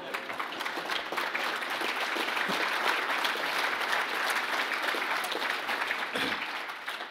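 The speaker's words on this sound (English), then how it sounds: "Great applause." Loud, sustained audience applause closing a panel session on guardians and nationhood, a thick continuous wash of many hands clapping with no voices over it.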